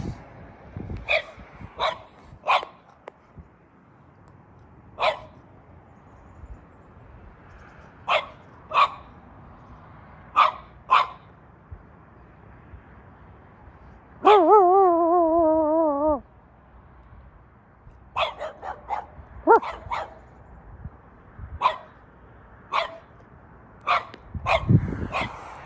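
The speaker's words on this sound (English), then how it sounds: "Dogs are barking." Dogs bark in short, scattered bursts at a moderate distance at sunset in the Okanagan, with quiet gaps between volleys and a brief whine or howl midway.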